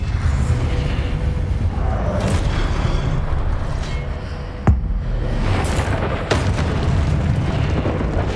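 Spell blasts crack and boom in Hogwarts Legacy gameplay, with sharp bursts landing over a dense rumbling background of combat noise and whooshes.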